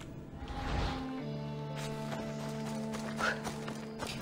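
Clip-clop of horse hooves while riding in Assassin's Creed Odyssey, a steady trotting rhythm up close under a layer of sustained game music, with a brief whinny-like burst near the end.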